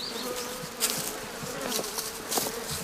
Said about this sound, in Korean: 살기등등한 수천 마리 벌 사이에서 작업을 한다는 게 보통 일은 아닐성싶다